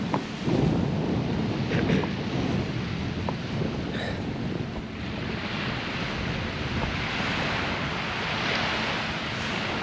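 Sea waves wash onto a beach at high tide, a steady, loud roar of surf with wind buffeting the microphone throughout, no voices.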